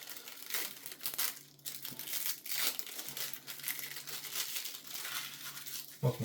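Foil wrapping of a Magic x Final Fantasy card booster pack crinkles and tears open in continuous close rustling, ending in a sharp crackle, with no speech.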